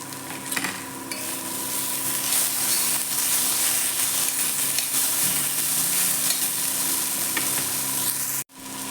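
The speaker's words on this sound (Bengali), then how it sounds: "কপিটা আমার ভাজা ভাজা হয়ে গেছে, আমি এবার টমেটোগুলো দিয়ে দিলাম, একটু ধনে পাতা দিয়ে দিলাম।" Cauliflower fries in a pan with freshly added tomatoes and coriander leaves: a continuous loud sizzle with occasional stirring scrapes, running steadily for several seconds before cutting off briefly near the end.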